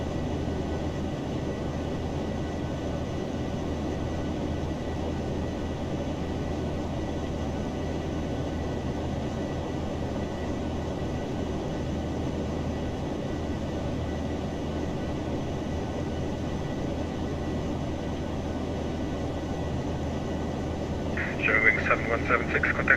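Boeing 737-800 jet engines drone steadily during a climb toward 39,000 feet in a flight simulator, forming a continuous even roar. A faint chime-like beep appears near the end, and no talking is heard.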